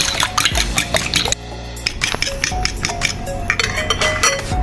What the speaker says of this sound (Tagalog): Babatihin po muna natin ang ating itlog guys.